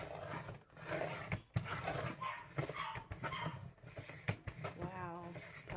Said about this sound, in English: Wow, puppies are barking.